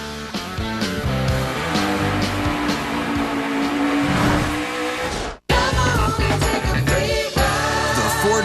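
NASCAR Nationwide Series stock cars racing at Mid-Ohio in 2015, with loud engines roaring and revving through the whole stretch, cut off by a brief break before more engine noise picks up.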